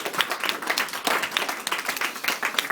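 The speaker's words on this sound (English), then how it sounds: "obviously a round of applause for Sean" Wedding guests clapping for the bride during a best man speech, a close, lively burst of many hands with uneven, dense claps filling the room, fairly loud.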